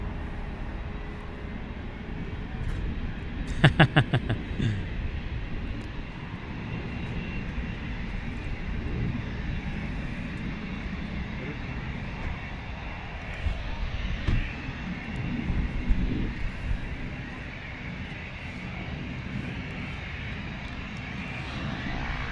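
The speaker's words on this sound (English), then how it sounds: "Beautiful rotation there from the 320 Neo." An Airbus A320neo jet takes off at London Luton Airport, a steady broad engine roar heard from a distance and holding through the whole stretch, with brief sharp clatter near the start and a slight swell later on.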